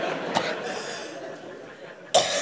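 Two short, sharp coughs, one early and one near the end, over a steady background hiss.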